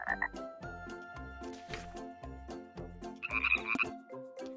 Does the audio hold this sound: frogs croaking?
yes